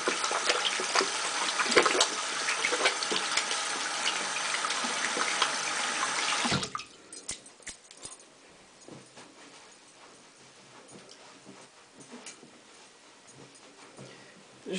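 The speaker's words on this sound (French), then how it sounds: "Je me lave les mains vite fait" Hands being washed under a running tap, a strong steady rush of water for several seconds before it shuts off, followed by quieter scattered drips and rubbing sounds.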